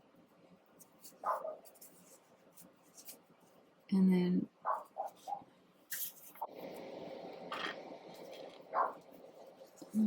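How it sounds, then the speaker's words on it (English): A pet dog barks a few times in the background of a room where someone is crocheting, the barks short and mid-distance, interleaved with a woman's speech. "sorry, my dog's barking in the background."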